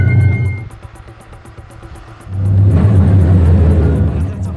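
A EuroNASCAR race car runs on the Vallelunga circuit in Italy, its engine a loud, steady rumble that eases briefly, then surges back louder as the car accelerates hard with no one talking.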